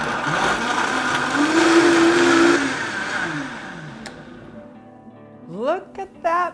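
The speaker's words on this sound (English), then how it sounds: "We're just going to blend for 1 minute." A blender runs loud and steady for a couple of seconds blending a healthy breakfast smoothie with ice cubes, then drops away to near silence before a voice breaks in at the end.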